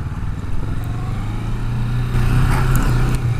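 Kawasaki Vulcan S motorcycle engine on a test ride, a steady low droning rumble that holds throughout and swells a little louder with rising revs in the second half, with wind noise over it and no talk.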